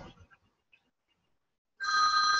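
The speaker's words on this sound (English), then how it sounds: "oh, my phone's ringing" A telephone rings in a quiet room: near silence breaks into a loud, steady electronic ring tone that continues to the end.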